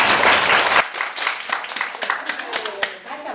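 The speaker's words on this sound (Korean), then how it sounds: "큰 박수 부탁드립니다" Loud, dense applause from a crowd that thins into scattered, uneven claps.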